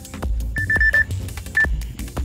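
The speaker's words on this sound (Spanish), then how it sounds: "Déjenme apagar esta alarma." Electronic alarm beeping at night in Matanzas, Cuba: a rapid series of short high beeps, then a single later beep, over street noise and low rumble.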